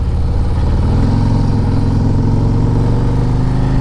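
A 2024 Harley-Davidson Street Glide rumbles loudly while riding, its engine note deepening and strengthening after about a second into a steady, throaty drone mixed with wind.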